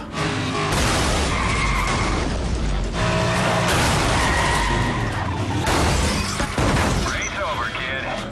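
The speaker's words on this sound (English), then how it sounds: "the only thing better than admiring these beautifully rendered cars is smashing them up." Cars crashing and smashing together in a racing video game, loud continuous metallic crunches, skids and shattering impacts, with several sharp bursts and a scraping whine near the end.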